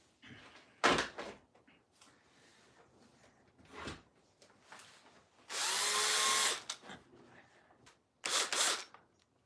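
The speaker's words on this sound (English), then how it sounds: "This is his drill, and I use it to build these guitars." A power drill whirs in a few short bursts, one longer run in the middle, with quieter clatter and handling noises between, in a guitar-building workshop.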